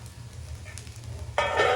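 Millet adai frying in light oil in a covered pan gives a faint low sizzle that swells into a louder, brighter hiss near the end as the lid comes off.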